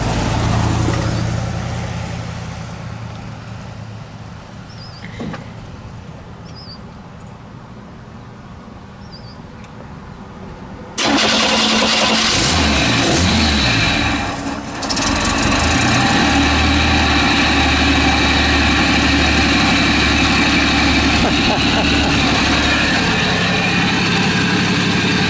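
A 1965 AMC Rambler American 220 station wagon with Thrush mufflers is started and left idling, giving a loud, steady, close engine rumble with a burbling exhaust note that holds without a break after the engine fires.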